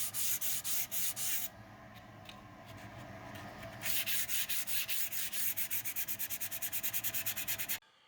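Close, rhythmic sanding strokes rasp over putty on a scratch-built RC plane canopy, rapid back-and-forth scrubbing with a steadier stretch of rubbing midway before the strokes resume and stop abruptly.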